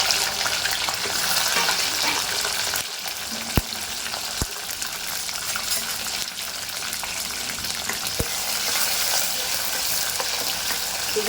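Chopped capsicum tipped into hot oil with cumin for a dry red chicken dish, giving a loud, steady, close sizzle throughout, broken by a few sharp clicks and taps of a pan or spoon.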